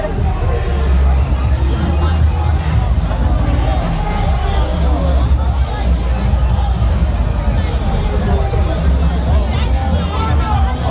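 Dense crowd babble at a Jamaica carnival, a constant roar of many overlapping voices with a low rumbling hum underneath, close and loud throughout.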